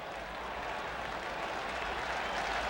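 A baseball crowd at ALCS Game 6 between the Oakland A's and the Toronto Blue Jays in October 1992 cheers and applauds in a steady, dense roar, vocal and high-pitched, filling the whole moment without a break.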